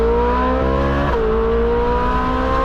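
A Hemi-powered Plymouth Superbird's engine roars loud and close, its harmonic tone dropping sharply on a downshift and then holding a steady, rumbling pitch.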